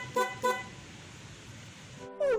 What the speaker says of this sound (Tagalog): yung tutunog naman ay yung PIAA horn